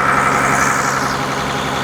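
A small fishing boat's diesel engine runs steadily nearby, a continuous low rumble with an even mechanical drone, loud and unbroken with no voices.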